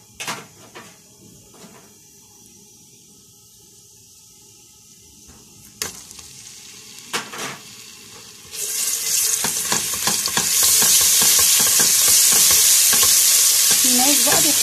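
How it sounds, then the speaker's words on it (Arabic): Garlic dropped into hot oil in a pot after meatballs were fried, quiet clinks and stirring before a sudden loud, continuous hissing sizzle erupts and holds steady to the end. "انا دلوقتي بقى في نفس الزيت ده، نفس الحله، هحط الثوم"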